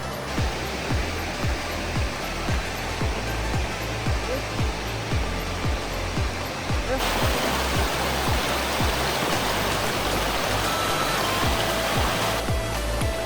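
Water of a creek near the mouth of the Skagit River rushes in a steady, loud, continuous wash, with a rhythmic low thumping underneath that is probably wind buffeting the microphone, and no talking.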